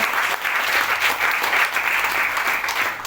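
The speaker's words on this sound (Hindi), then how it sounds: "तो एक जोरदार तालियां हम लोग न्यूट्रीचार्ज टीम के लिए बजा सकते हैं।" An audience at an RCM business seminar claps hard for the Nutricharge team, a full, continuous roar of hands that stays loud and even for about three seconds.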